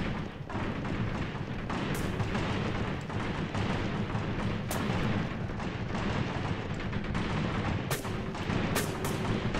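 Soviet forces firing in the Graviteam Tactics war game, a continuous dense rumble of artillery and gunfire with repeated sharp cracks and booms throughout, no speech.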